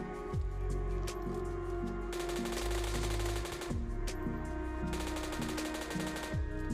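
Automatic gunfire in the mobile game PUBG Mobile cracks out in several rapid bursts separated by short pauses, loud and close.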